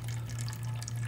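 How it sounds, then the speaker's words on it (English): Tap water runs steadily into a trough, a constant faint hiss with a low hum, close and unbroken, with no talking. "And while this is still filling up, turn on the water a little bit faster here."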